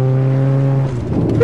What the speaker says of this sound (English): this automatic Honda really flies